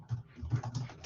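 A quick run of keystrokes on a computer keyboard, several close, light clicks in an uneven rhythm with no voices.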